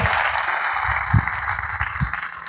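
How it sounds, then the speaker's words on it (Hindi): Audience applause fills a hall during a motivational seminar for a Netsurf business program: a dense, steady wash of many hands clapping at moderate volume, with a few louder individual claps standing out, and no talk over it. "इनके लिए जोरदार तालियां होनी चाहिए।"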